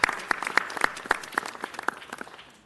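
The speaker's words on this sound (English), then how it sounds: "round of applause" An audience at a city council meeting applauds with brisk, crisp claps that thin out and fade over a few seconds.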